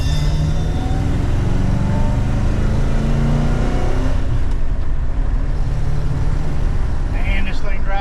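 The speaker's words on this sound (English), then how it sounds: "fixing to take a test drive on a 1955 Ford Fairlane." A 1955 Ford Fairlane Custom Line drives along on a test drive, its engine droning steadily and loudly throughout with some revving, heard from inside the car.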